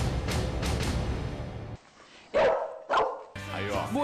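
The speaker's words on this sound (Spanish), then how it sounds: "El perro se llama Preguntale" A dog barks several times in sharp bursts, loud and close, on a noisy television talk-show set, with people talking around it.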